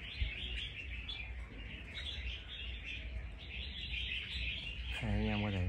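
Red-whiskered bulbul, a trapped fighting bird offered for sale, chirping steadily against a dense noisy background, with a brief louder warbling call near the end.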